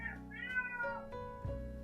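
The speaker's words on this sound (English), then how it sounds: "And that's the cat." Pet cat meowing for food, a couple of drawn-out, rising and falling meows close by, fairly quiet, with no talking over them.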